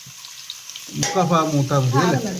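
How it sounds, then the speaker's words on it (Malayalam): Chopped coconut pieces hit hot oil for a Kerala chickpea curry. After a quiet start, a loud, close sizzle and crackle erupts and keeps bubbling steadily. "അതിലേക്ക് നമുക്ക് കൊത്തി വെച്ചിരിക്കുന്ന തേങ്ങാക്കൊത്തിടാം"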